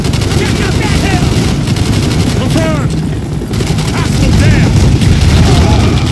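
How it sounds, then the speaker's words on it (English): Enemy shotgun blasts in Call of Duty: Black Ops pound continuously in a dense, loud barrage of combat noise, with no pause in the firing. "Of course they got shotguns, why wouldn't they?"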